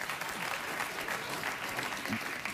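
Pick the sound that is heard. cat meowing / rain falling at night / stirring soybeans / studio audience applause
studio audience applause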